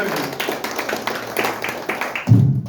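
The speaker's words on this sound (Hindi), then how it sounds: "मैं चाहूंगा इन लोगों के लिए एक बार जोरदार तालियां हो जाए, जोरदार तालियां प्लीज।" Brief, scattered clapping from a crowd, rising to a louder burst near the end, with a voice talking over it.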